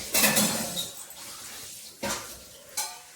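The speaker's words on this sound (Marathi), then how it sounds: "भांडी धुवायची होती मग बॉटल रोज काही घासत नाही फक्त अशा धुवून ठेवते" Dishes clink and clatter at a sink, with a few sharp knocks of pots and utensils and soft running water between them.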